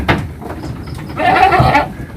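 Goats on a goat breeding farm bleat, with one loud, drawn-out bleat rising clearly near the end after softer shuffling and scattered animal noises close by.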